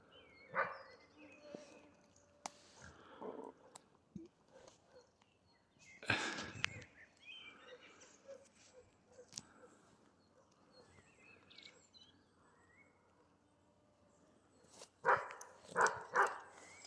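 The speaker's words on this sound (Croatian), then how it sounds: "Lepo laje" A tricolour hound barks in short scattered bursts during boar training in thick brush, some barks near and others fainter, with quiet gaps between and someone speaking softly at times.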